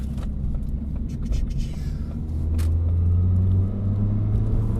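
A tuned Ford Fiesta ST with an X47R turbo setup, making 280 wheel horsepower, pulls in second gear past 4,000 RPM, a deep steady engine drone heard from inside the cabin that swells and rises as it accelerates, with a voice talking over it.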